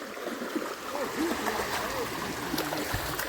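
A flowing stream carrying plenty of water on a farm gives a continuous broadband rush with small splashes and gurgles. Faint background noise sits under it, and no words are spoken.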